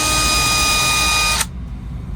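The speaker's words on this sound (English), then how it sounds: "I'm going to start my drill slow and then drive it on home." A power drill runs at a steady high whine while drilling a pilot hole, close and loud, then stops abruptly at about one and a half seconds, leaving a low room hum.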